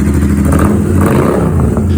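A Royal Enfield Interceptor twin-cylinder motorcycle runs with a newly fitted exhaust, a loud, deep, throaty idle that rumbles steadily close by.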